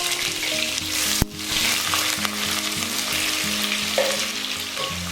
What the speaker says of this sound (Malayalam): ഇത് നല്ലപോലെ ഒന്ന് വഴറ്റിയെടുക്കുക.